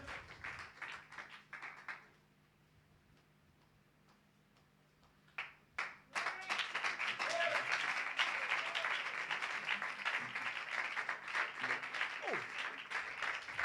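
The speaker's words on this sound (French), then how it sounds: "Est-ce qu'on peut les acclamer partout sur Internet?" A church congregation at an Easter gathering breaks into sustained, loud applause after a quiet pause, with a brief burst of clapping just before; the dense clapping continues steadily to the end, with no talk.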